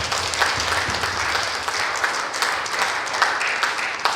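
A youth fellowship audience at a parish gathering claps together, a dense, loud and continuous round of applause lasting throughout.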